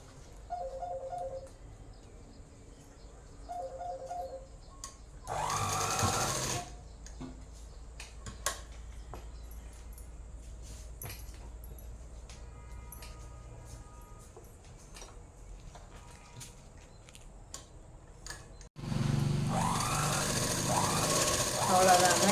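A sewing machine stitches a seam on a chudidhar top in short, rapid mechanical bursts, with quieter ticking and handling noises and long pauses between runs.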